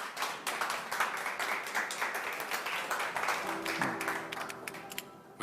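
Audience applause welcoming candidate Park Jin at a People Power Party vision presentation event, a steady wash of many hands clapping throughout, with a faint voice entering near the end.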